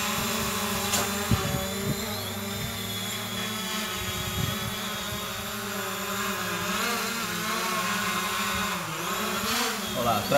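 A quadcopter drone running its flight firmware update lifts off in ATTI mode, a steady buzzing rotor whine holding near and loud throughout with fluctuating pitch and a few brief knocks underneath.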